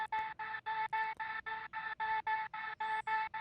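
A vocal chop in a 2022 pop beat, run through an Effectrix filter effect, repeats as a rapid, evenly gated series of bright tonal pulses at steady volume. No voice speaks over it.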